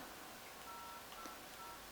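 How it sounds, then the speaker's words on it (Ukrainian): Touch-tone telephone keypad beeps while dialing a prize hotline number, a few faint short tones over a steady hiss on the line. "тому зараз телефонуємо на гарячу лінію"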